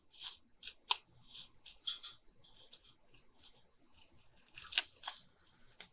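Scissors snip paper being trimmed for a concertina fold-out journal, heard as faint, crisp cuts spaced irregularly over a quiet background.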